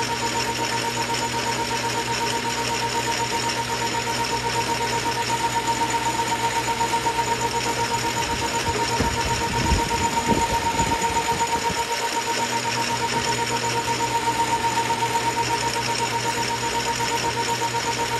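Metal lathe drilling with a bit advanced by the tailstock drive and pulley while making an R8 tool holder, a steady loud mechanical whir with a constant hum and a rougher grinding stretch midway.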